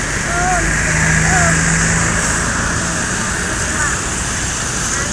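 A Sumatran ANS intercity bus pulls into a busy bus terminal, its steady engine rumble and road noise filling the scene, with a faint horn-like tone and constant broadband wash throughout.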